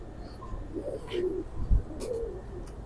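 Lalpari pigeons give soft, low coos in short bursts, fairly close, with a few faint rustles and a sharp click at the very end.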